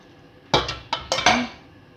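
Pandesal dough with butter is mixed in a bowl, and a utensil knocks against it in five sharp clinks in quick succession. The clinks stand out against quiet.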